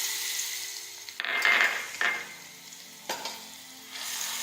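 Garlic dropped into hot oil for Schezwan chutney, sizzling and crackling steadily with a few sharp clatters of a spoon against the pan, close up and with no talking.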